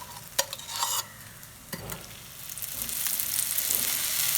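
Oil sizzles in a pan while ragi flour dosa fries, a steady close crackling hiss that swells over a few seconds, with brief scraping stirs near the start.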